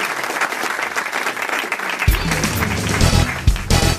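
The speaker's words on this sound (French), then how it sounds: "on vous applaudit, Philippe, et votre épouse Christiane avec" Studio audience applause on a French radio comedy panel show, a loud steady clapping that continues as someone speaks over it in the second half.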